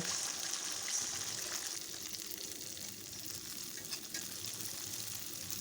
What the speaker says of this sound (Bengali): কড়াইয়ের তেল গরম হয়ে গেছে এবার আমি একটা দুটো করে এই আদারসাগুলো ছেড়ে দেব